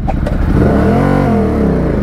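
A new Ducati Diavel 1260 motorcycle pulls away, its engine rising loud and close as it accelerates, the pitch climbing and then levelling out.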